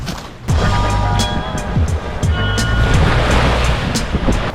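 Ocean waves breaking and washing on a shore at blue hour near a city, a steady loud broadband roar of surf with wind rumble, continuous and close throughout.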